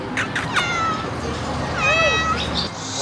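A cat meows in a few drawn-out, rising and falling cries, close by, while someone talks softly to it in a pub or bar setting.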